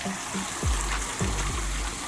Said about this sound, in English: So there's your water flowing.